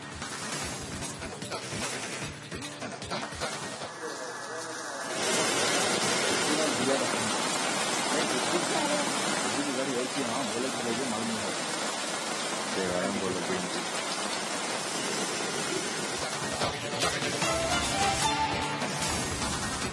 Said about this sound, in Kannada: ಈಗ ಮತ್ತೆ ಇದೇ ರೀತಿ ಮಳೆ ಆರಂಭ ಆಗಿದೆ